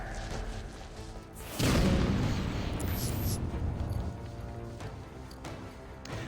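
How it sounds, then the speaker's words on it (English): A grenade blast in Batman: Arkham City bursts out loud and sudden, a heavy crash that rumbles and slowly fades over the following seconds, with game sounds continuing around it. "Grenade!"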